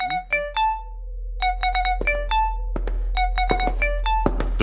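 A telephone ringtone plays an electronic melodic pattern of short bright tones in repeated bursts, clear and fairly close, with no voices over it.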